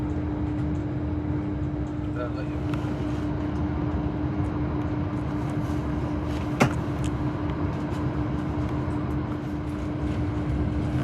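An HST Castle Set train runs on rails in Cornwall, a steady broad rumble heard from on board across the whole stretch, with a constant tonal hum and one brief sharp knock partway through.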